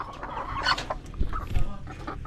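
Chickens cluck close by in short, uneven bursts, several birds overlapping against a soft background hum.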